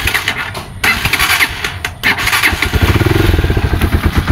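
A motorcycle engine is started by push button, catching after a couple of brief cranks and then settling into a steady, quiet idle close by with no audible ticking.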